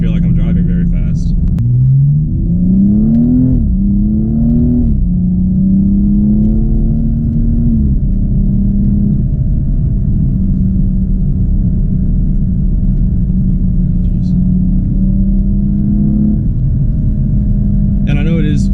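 A 2015 BMW M235i cruises at 60 mph on a back road, its engine humming in a steady low drone with gear-change shifts in pitch early on, while a person talks over it.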